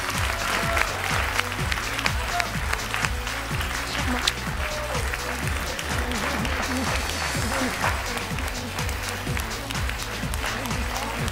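Studio audience at the X-Factor Armenia talent show clapping loudly and continuously, dense sustained applause with crowd noise and a voice speaking over it.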